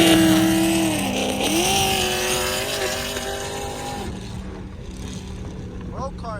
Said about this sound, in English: Road car is super loud.